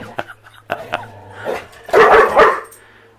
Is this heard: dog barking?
yes